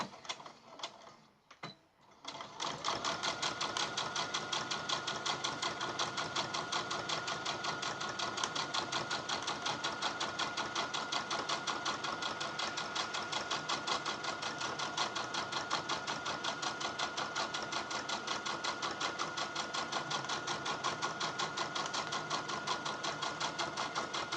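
After a few brief handling clicks, a sewing machine runs a long, steady, loud stitching whir while sewing a quarter-inch seam on a small gift bag, with no speech.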